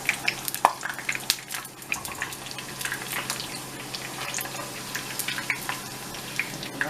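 A tostada shell fries in hot oil in a home kitchen, giving a steady soft crackle and sizzle with scattered sharp pops and bubbling, fairly close and moderate in level.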